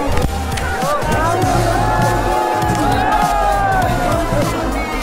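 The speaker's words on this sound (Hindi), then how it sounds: "पूरा ऊपर तक भीड़ है।" A dense crowd at a temple fair for the deity Maliyaal Devta in Uttarakhand, a loud continuous hubbub of many voices and cheering, close and unbroken, with someone speaking over it.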